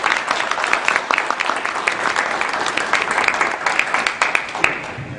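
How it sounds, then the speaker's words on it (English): Applause for winners at the Inkwell Awards ceremony: a sustained round of clapping from a seated crowd, dense and even with sharp individual claps standing out, continuing throughout. "Can we have a round of applause for all our winners?"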